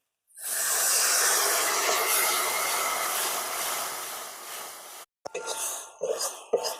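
Water poured into a pan of spice masala, coriander powder and turmeric, sets off a loud, sustained steamy hiss that slowly fades, then stops abruptly and gives way to short bursts of sizzling and stirring.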